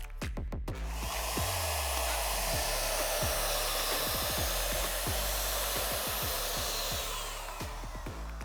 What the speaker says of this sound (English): I'm going to use my Wagner pre-treatment gun.